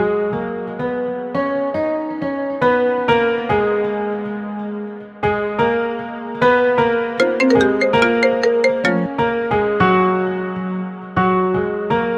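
A phone ringtone plays during a call, a melodic electronic tune with bell-like tones repeating steadily and loud for about twelve seconds, with no voices over it.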